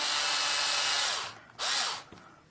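An electric screwdriver whirs loudly for over a second while starting screws on a Raging Droner build, cuts out briefly, then gives a second short burst close by with no talking.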